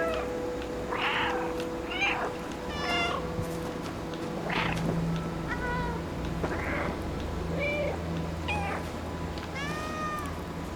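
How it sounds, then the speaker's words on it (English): Repeated meows from the cat in the video game Stray, coming in short calls spread across the stretch at moderate volume, over a steady background hum and soft game ambience. "And just the button for the meowing."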